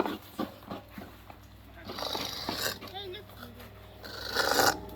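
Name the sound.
scraping coconut by hand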